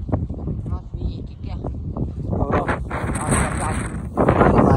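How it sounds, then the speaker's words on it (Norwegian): Wind buffets the microphone with a rough, rumbling roar throughout, while people talk over it. "Det blåser."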